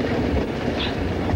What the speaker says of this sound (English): Hide, old boy, that's the death train.